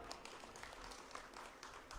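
A crowd at a political rally claps and applauds, a steady dense patter of many hands heard from a moderate distance.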